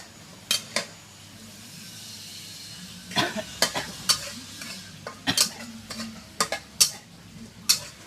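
Pieces of pork for a sweet and sour stir-fry are tossed in a pan over a soft sizzle, with a spatula scraping and clinking against the metal in irregular bursts of close, sharp knocks.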